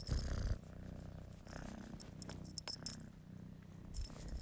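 A kitten purrs softly and steadily up close, a low rhythmic rumble continuing throughout with a few faint rustles and clicks in the background.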